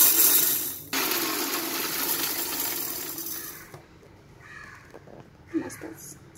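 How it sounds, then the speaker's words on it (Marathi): A mixer grinder coarsely grinds roasted fenugreek seeds for lime pickle. It roars loudly and steadily for about four seconds with a brief dip early on, then cuts off, leaving faint clatter and handling sounds. "त्या थोड्याशा जाडसर मिक्सरला वाटून घेऊ।"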